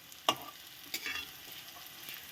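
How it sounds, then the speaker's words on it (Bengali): Small chushi dumplings for carrot payesh fry in ghee with a soft, faint sizzle, broken by a sharp utensil clink near the start and a light scrape a moment later. "এটা ঘি দিয়ে ভাজছি"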